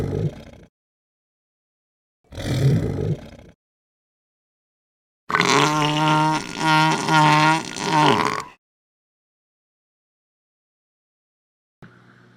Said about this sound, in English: As the big dinosaur approaches, I use simple lion and tiger sounds.